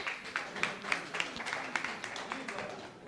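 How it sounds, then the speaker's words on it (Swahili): Applause for a speaker at a youth conversation forum in Kisumu, Kenya: a modest group claps steadily for about three seconds, sharp individual claps standing out from a soft, roomy wash, at moderate distance. "Makofi kwake."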